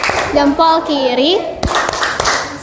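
Fifth-grade children in an Indonesian classroom chant together, then give a short rhythmic salute clap: a few sharp, close hand claps in quick succession.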